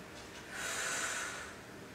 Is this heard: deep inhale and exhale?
yes